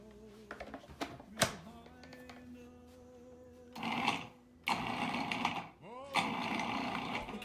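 Food processor pulsing struffoli dough in short bursts of whirring motor noise, several separate pulses with brief pauses between, close and fairly loud.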